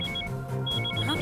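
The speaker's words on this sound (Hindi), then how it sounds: "आशु का फोन है।" A phone rings with a repeating electronic trill, close and steady, over a low background hum.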